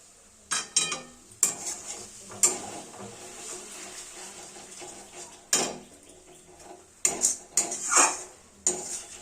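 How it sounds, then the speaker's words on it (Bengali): A metal spatula clanks and scrapes against a pan while spices are stirred with chicken and a little water for a chui jhal curry, a series of sharp irregular knocks over faint sizzling. "অনবরত খুব সুন্দরভাবে নাড়াচাড়া করে মশলাটা আমরা কষতে থাকবো"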